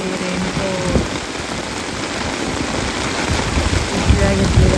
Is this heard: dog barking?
no